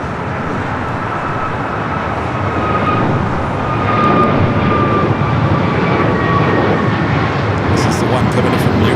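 A jet airliner arriving from Chicago O'Hare on the south side of Los Angeles LAX airport gives a broad, steady roar that swells louder midway, while someone talks over it.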